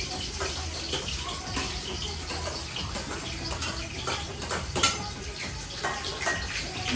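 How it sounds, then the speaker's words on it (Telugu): Onions hiss and crackle as they hit very hot oil, a steady broadband sizzle with occasional utensil clinks, fairly close and without speech. "ఇప్పుడు నేను ఆనియన్స్ వేసుకుంటున్నాను."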